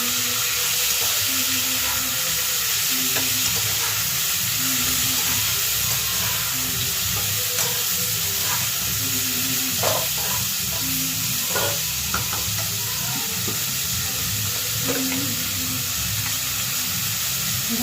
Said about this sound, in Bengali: তেলেতে কালো জিরে ফোড়ন দিলাম আর এখানে বড়ি দিয়ে ভেজে নিয়েছি।